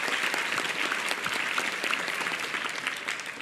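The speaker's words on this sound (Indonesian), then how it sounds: "Tepuk tangan buat pertanyaan yang luar biasa." A dense burst of audience applause at a talk in Indonesia, many hands clapping steadily and loudly throughout, with no voices standing out.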